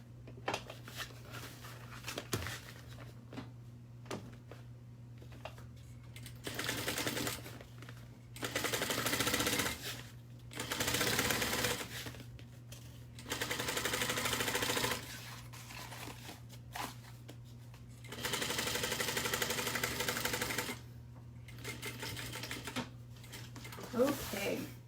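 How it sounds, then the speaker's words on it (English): A sewing machine top stitches a seam on an Annette garment, running in several steady bursts of a few seconds each with quiet pauses between, close and fairly loud over a low constant hum. "I'm just going to top stitch."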